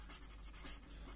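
Chalk or marker writing on a board during a Hindi-language chemistry lecture: a short, faint, continuous scratch of strokes with no voice.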